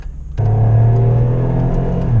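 A car revs hard after a downshift, the engine note jumping from near-silence into a loud, steady low roar that holds strong and close, with no talking over it.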